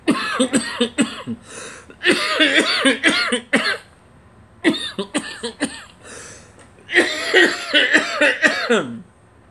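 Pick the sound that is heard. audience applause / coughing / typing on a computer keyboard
coughing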